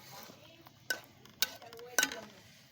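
A spoon stirs potatoes in a pan with onion, cardamom, cinnamon, chili, turmeric and salt, making three sharp scraping clicks over a faint, low sizzle, all quiet and close.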